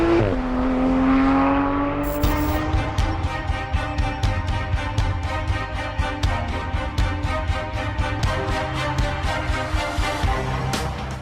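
A Porsche 911 GT3 RS engine under way, its tone sweeping upward at first and then holding a loud, steady, pulsing drone close by, with no voices.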